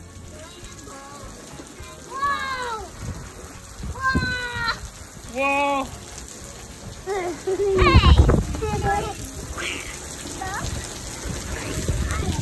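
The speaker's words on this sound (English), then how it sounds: "It's pouring." Heavy rain pours down steadily outdoors by a backyard grill, a dense wash of noise running under children shouting and adults talking throughout.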